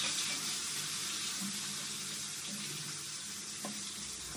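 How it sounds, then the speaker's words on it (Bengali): Fish fry in a pan with a faint, steady hiss of oil, soft and distant, with a few small pops and clinks and no talking. "মাছগুলো ভেজে নিচ্ছি"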